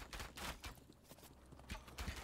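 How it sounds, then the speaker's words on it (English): A dense, busy pounding of many horses galloping in the video game Thronefall, a continuous quiet rumble of hoofbeats from a large mounted group. "Oh, it's a crap ton of horses."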